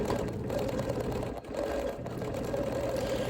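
A quilting machine runs continuously while outline quilting with white thread, a close, steady mechanical whir with rapid stitching pulses and one brief dip midway, heard alone without speech.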